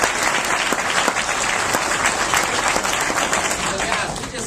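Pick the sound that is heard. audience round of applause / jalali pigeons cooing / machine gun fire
audience round of applause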